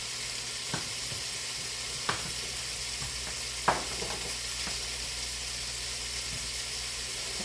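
Pork sizzles and browns in a pot for a home-cooked stew, a steady close frying hiss with a few soft clicks and taps of a spoon or lid.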